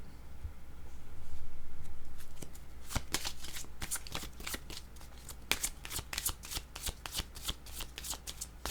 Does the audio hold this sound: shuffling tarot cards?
yes